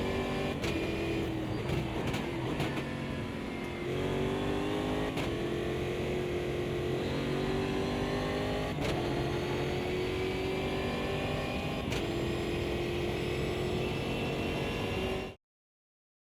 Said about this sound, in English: I like the sound in Automobilista 2.